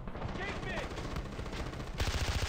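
Enemies in Far Cry 4 firing a giant gun, a fast continuous stream of heavy automatic shots that grows louder near the end, with a voice talking over the din.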